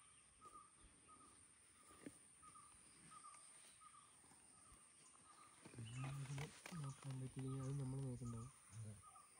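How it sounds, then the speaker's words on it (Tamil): A tiger roars in the forest at Topslip, a deep rumbling call rising out of quiet jungle ambience with insects, repeated in several loud pulses near the end. "Puli சவுண்டுங்க, tiger sound."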